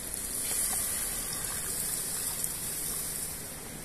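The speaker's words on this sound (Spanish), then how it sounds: "Bueno, ahí va el agua." Water gushes into a cooking pot over sautéed vegetables at an outdoor riverside cookout, a steady, loud rushing pour that continues throughout with no talking.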